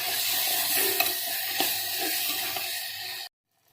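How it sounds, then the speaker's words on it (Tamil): Tomatoes sautéing in a pan for keerai kootu, a steady close sizzle with stirring clatter and small pops, alone without voices, cutting off abruptly near the end. "தக்காளி நல்லா வதக்கிடுச்சு"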